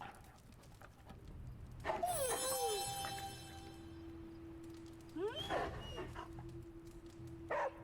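Charlie the dog in Marvel's Midnight Suns whimpers and lets out a few short barks and yips in bursts, close and clear, over a quiet ambient game background with no talk.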